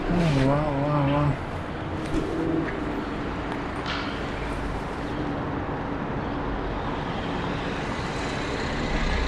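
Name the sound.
car passing on city street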